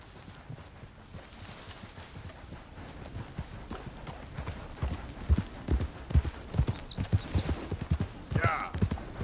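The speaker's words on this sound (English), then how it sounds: "That's a nice horse." Horse hooves clip-clop in an irregular walking rhythm, growing louder and closer toward the end, with a faint background hum.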